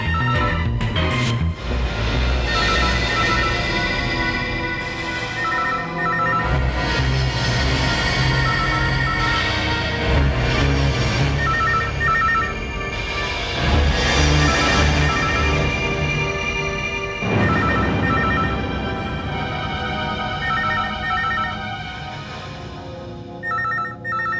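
A telephone rings insistently, its bell pattern repeating over and over for a long stretch, loud and close, with no voices.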